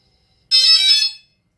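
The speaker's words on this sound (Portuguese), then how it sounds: "ele vai acender os LEDs e vai tocar um bip nos motores" The motors of a TBS Discovery drone sound a single short, shrill electronic beep as it powers up, clear and close in an otherwise silent room.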